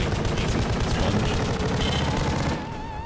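A rifle with a 40-round magazine fires in the horror video game The Pony Factory, a dense, loud, unbroken burst of automatic gunfire that cuts off abruptly near the end.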